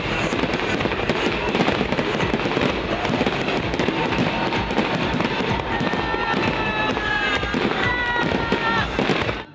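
Dense, continuous crackle and popping of a festival fireworks display set to Tchaikovsky music, with rapid bursts, whistling and distant crowd voices filling the whole stretch.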